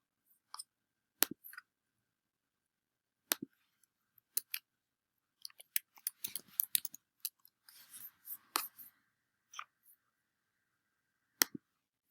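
Sparse, irregular key clicks from someone typing on a keyboard, quiet and close, arriving in scattered single taps and short bursts with pauses between them.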